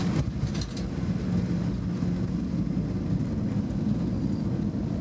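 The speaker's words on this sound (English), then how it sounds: "Here I am on the airplane arriving into Madrid." Cabin of an airliner arriving into Madrid, a steady low-pitched engine and air roar that stays constant throughout, with no speech.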